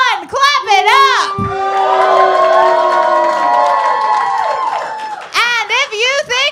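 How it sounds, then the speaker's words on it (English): A wrestling crowd at a live ringside event claps and cheers loudly for several seconds, with whoops and shouts rising over a host's voice at the start and end. "If you think Buff Bagwell won, clap it up"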